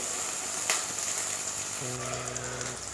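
Chicken added to sautéed onions in a hot pan, giving a steady soft sizzle and crackle like light rain, with a faint low hum joining midway; no talking.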